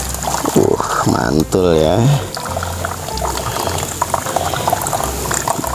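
Water poured and flowing steadily into a goldfish tank, a continuous bubbling trickle heard close up beneath a person talking at the start.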